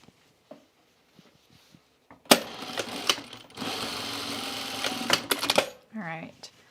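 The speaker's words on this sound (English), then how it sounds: "And we'll sew this one together." A sewing machine stitches cropped jacket pieces together in a sustained, close, buzzing run of rapid stitching after a few quiet handling taps, briefly pausing and slowing before stopping, with no voice over it.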